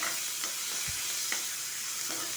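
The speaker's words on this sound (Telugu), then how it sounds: "ఇది పోపు వేగుతున్నాను బాగాను" Steady loud sizzling of tempering spices with green chillies and curry leaves frying in hot oil, with a few soft stirring clinks.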